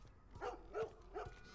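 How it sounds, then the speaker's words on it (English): Dogs barking outside during The Last of Us gameplay: three distinct barks spaced evenly across a moment, moderately loud over a low steady background hum. "The puppies outside aren't too happy."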